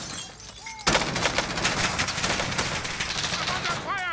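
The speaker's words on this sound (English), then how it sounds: "I'm under fire!" Rapid bursts of automatic gunfire in a Warzone-style battle royale match near a gas station, loud and sustained, with a shattering crack at the start and sharp chirping effects near the end.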